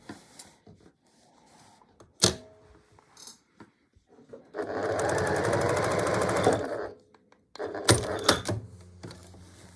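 A sewing machine stitches over a square pot holder, with a steady mechanical whir lasting about two seconds, bracketed by sharp clicks and handling knocks of fabric and machine parts before and after.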